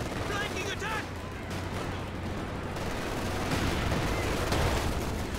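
Weapon gunfire from the Company of Heroes 2 battle, a steady wash of crackling shots and distant booms, continuous and fairly loud, with a voice talking over it.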